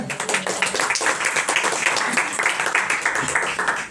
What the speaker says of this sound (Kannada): ಹಲ್ಲೆಲೂಯಾ, ಚಪ್ಪಾಳೆ ತಟ್ಟರೆ.